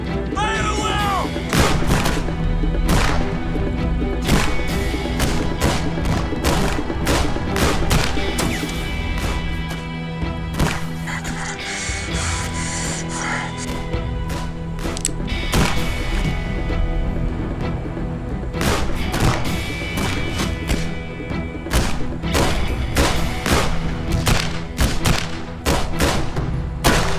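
Rifle volley fired by a line of soldiers in a period battle, rendered as repeated sharp cracks and booms that recur across the whole stretch over a dense, loud battle din with music.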